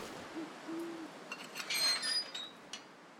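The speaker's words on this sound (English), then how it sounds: "That owl, eh?" An owl hoots in the video game The Long Dark, a soft low call repeated twice early on, heard faintly against a steady hiss of wind, with a brief brighter rustle later in the clip.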